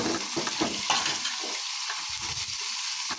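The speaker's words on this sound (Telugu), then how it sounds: "ఇప్పుడు ఉల్లిపాయలు వేసుకుందాం" Chopped onions and green chillies hitting hot oil give a steady hiss and crackle, with some stirring and bubbling that thins out toward the end; no voices.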